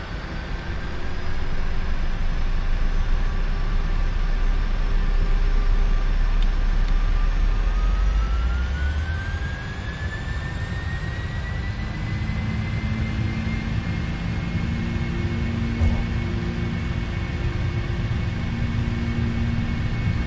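Airliner taking off from Cairo runway 05 left in the Prepar3D v4.3 flight simulator: loud, steady engine roar with whining tones sweeping upward as power builds, and the deep rumble easing partway through.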